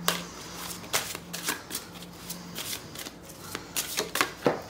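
Slightly sticky tarot cards are shuffled by hand in a quiet room, giving repeated crisp riffling and slapping bursts in an irregular rhythm, close and fairly soft.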